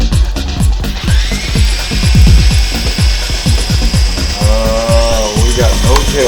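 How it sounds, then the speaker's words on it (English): A HoverLite RC helicopter, flown without its body, spins up its rotors and motor with a loud, close whine that rises in pitch. Repeated mechanical clicks and bumps sound over the motor. "I'm going to go ahead and spin it up without the body on and see how this runs."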